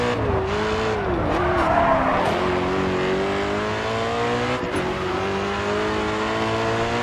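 A drift race car in the Grid 2 racing game slides with sustained tire squeal over a droning, shifting engine note, loud and continuous for several seconds, with no talking.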